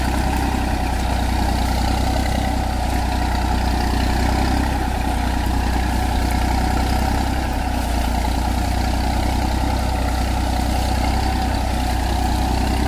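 A Massey tractor engine runs steadily at idle on a sugarcane farm, a loud, constant low rumble that holds unchanged throughout with no talk.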